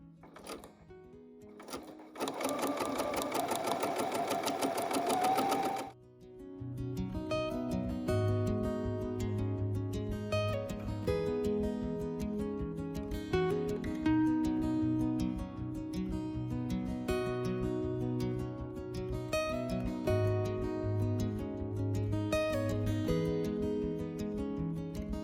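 Sewing machine stitching fabric panels for a quiet book, a brief start then long stretches of fast rhythmic mechanical whirring and ticking, close and steady, heard with background music.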